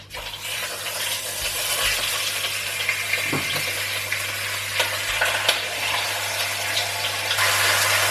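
Lamb shanks brown in hot olive oil in a pan, giving a steady, bright sizzle that continues throughout, with a few soft knocks and shifts as the meat is moved, and no talk.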